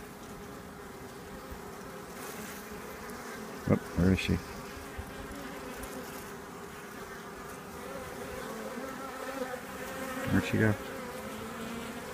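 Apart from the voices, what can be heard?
honey bees buzzing around an opened hive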